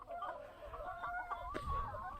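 Village chickens clucking and murmuring nearby, a steady stream of short calls over a low rumble of background noise.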